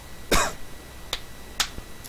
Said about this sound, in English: I did go to the corner to cough